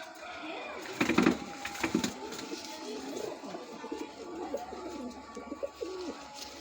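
Pigeons coo in a breeder's loft, soft repeated throaty calls close by, with a louder flutter around the first two seconds as someone talks over them.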